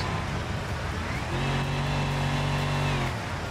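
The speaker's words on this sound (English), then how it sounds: "We broke the exhaust. As you can hear it, it's quite loud now." Engine roar from a car with a broken exhaust in a driving simulator game, loud and continuous, swelling into a sustained droning rasp midway before easing off near the end.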